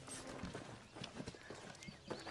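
A kelpie in horse form in a horror film: hooves clopping in a quick irregular rhythm, close and faint, with no talk over it.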